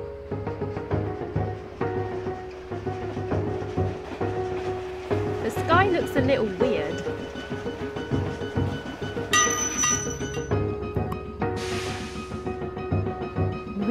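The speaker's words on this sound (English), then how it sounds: "Noisy train." A noisy train in the video game Old Man's Journey rumbles and clatters steadily while bell-like chimes and tonal game music ring over it, and someone talks over the top throughout.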